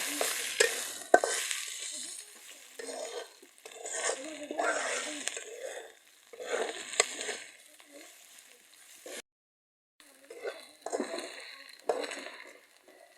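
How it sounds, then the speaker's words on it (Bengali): Lentils frying with onion in a pan for an okra dal, stirred in bursts of sizzling and scraping, with brief pauses and a short silent gap. "পেঁয়াজের সাথে এটা ভালো করে ডালটা ভেজে নেব। ভেজে নেওয়ার পর আলুটা দিয়ে দেব।"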